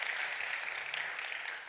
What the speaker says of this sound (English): You ought to give him a clap right now